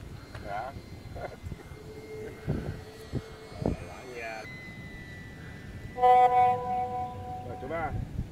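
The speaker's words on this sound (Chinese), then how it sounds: "麦基买咗个飞机仔玩啊" A small toy RC airplane buzzes overhead with a thin, rising engine whine, strongest in one loud pass near the end, while people talk and exclaim throughout.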